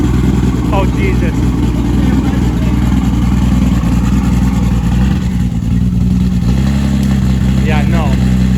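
A straight-piped engine revs hard and loud in a shop, its deep, continuous roar running the whole time with a sharp rise near the end, while voices talk over it.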